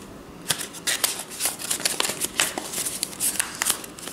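Paper being folded and creased by hand for a kids' paper rocket craft, with close crisp rustles and quick crinkling bursts in an irregular rhythm, heard alone without talk.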